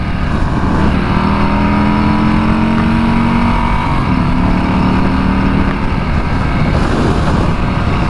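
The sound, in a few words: 2020 Harley-Davidson Street Bob motorcycle engine accelerating to merge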